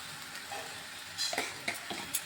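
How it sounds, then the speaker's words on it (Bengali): Raw jackfruit fried in a pan is stirred with ghee, quiet frying hiss with a few scraping strokes of the spoon near the end. "ঘিটা ভালোভাবে মিশিয়ে দিচ্ছি"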